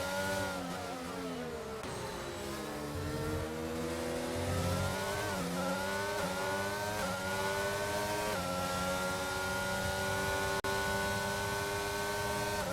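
Formula 1 race cars in a racing video game at the United States Grand Prix, a loud engine whine rising and falling through gear shifts and corners, with no voices.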